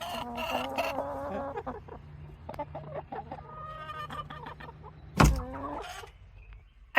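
Chickens cluck and squawk repeatedly nearby, with a sharp louder burst partway through and low background rumble.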